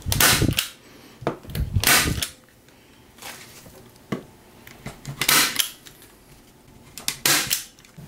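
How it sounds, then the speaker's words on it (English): A staple gun drives staples into covering material on a guitar amp cabinet being converted into a 2x12 cab, giving about six sharp, close snapping clacks spaced irregularly across the stretch with quiet handling between them. "Then we can just pull these in and staple these"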